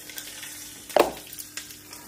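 Curry leaves, asafoetida and red chili hit hot oil for a tempering, giving one sharp, close sizzling burst that quickly fades into faint crackles.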